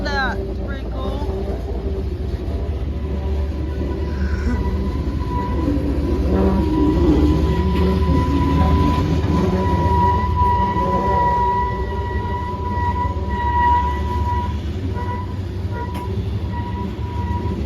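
A loaded CSX coal freight train rolls past steadily, its low rumble and rail noise continuous with a sustained horn-like tone, heard near at moderate loudness while a voice talks briefly.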